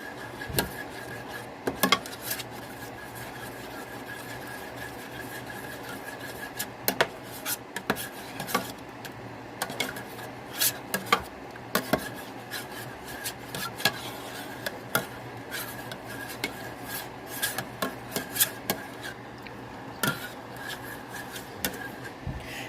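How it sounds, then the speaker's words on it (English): Spoon stirring butter into heavy whipping cream in a pot, a steady scraping and rubbing with frequent light metallic clinks against the pot, alone and fairly quiet throughout. "Let's stir that in and let that butter melt."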